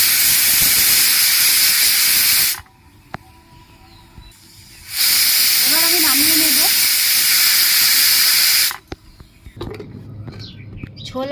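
A pressure cooker of chana dal with salt and turmeric on a lit stove releases two long, loud bursts of hissing steam, separated by quieter pauses with faint background sounds.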